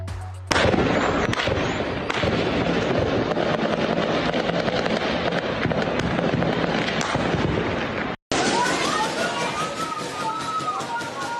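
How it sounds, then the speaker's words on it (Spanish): Dense gunfire during a police operation against drug traffickers in Rio de Janeiro, rapid overlapping shots and bursts crackling continuously with a brief gap, recorded from a distance. "una verdadera lluvia de balas"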